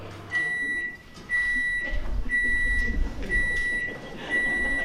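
A microwave oven heating a raspberry milkshake hums steadily while a high electronic beep pattern repeats in even pulses, close and fairly loud.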